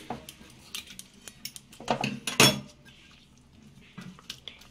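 Salted vegetables stirred in a pan with a metal utensil while cooking thor dalna, a series of irregular clinks and scrapes, a few louder knocks against the pan, close and alone.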